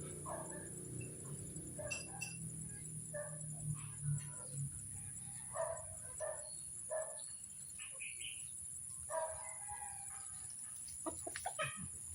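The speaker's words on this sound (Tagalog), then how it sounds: "Puntang Bicol ang ating manok para sa pamangkin ko kay Kirby at kay Keron." Chickens cluck and chatter intermittently nearby, over a steady high-pitched whine in the background.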